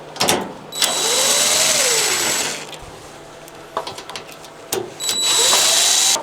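A power drill unscrews fasteners from a Miele dryer in two close, loud whirring bursts with a rising and falling pitch, separated by quieter clicks and handling noise.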